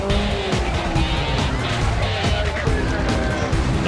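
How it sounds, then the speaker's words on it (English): Tyres on a Lotus Elise squeal as the car is manoeuvred into a garage at a 2005 NSW rally round, over loud, continuous engine roar and clattering noise, with voices mixed in. "Event sponsor Paul Pickett lit up the tyres in the Lotus Elise and had an interesting approach on getting back into the garage."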